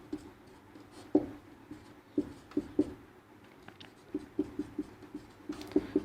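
Pen or chalk writing out a maths formula during a Class 10 polynomial lesson, a series of short scratchy strokes and taps in an irregular rhythm, close and fairly faint, with no talk.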